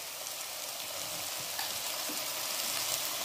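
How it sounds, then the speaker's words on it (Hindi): Onions fry with ginger-garlic paste in a pan, giving a steady, soft sizzling hiss with faint crackles throughout, moderately close and with no voices. "अदरक लहसुन के पेस्ट के साथ प्याज को हम गोल्डन ब्राउन फ्राई कर लेंगे"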